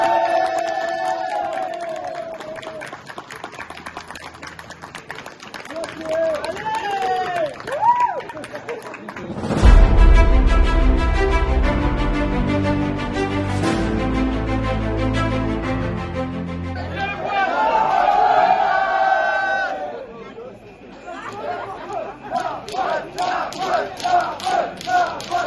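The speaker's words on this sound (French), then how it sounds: "Bravo, les applaudissements." An audience at a geek convention bursts into loud cheering and applause after a score is announced, a dense roar lasting several seconds, framed by someone talking before and after and a second wave of crowd noise near the end.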